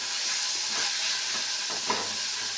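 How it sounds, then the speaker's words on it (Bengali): Potato pieces with onion and garlic fry in oil tempered with bay leaf and whole cumin while being stirred. A steady close hiss of frying runs throughout, broken by soft scraping stirs. "পেঁয়াজ রসুন টসুন দিয়ে একটুখানি কষিয়ে নিচ্ছি"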